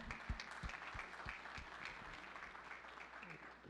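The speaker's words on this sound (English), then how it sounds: "One more round of applause for Mayor Gary Krantz" Audience applause for a city mayor at a civic gathering, a sustained round of many hands clapping with a few sharp claps standing out near the start, steady throughout and fading slightly at the end.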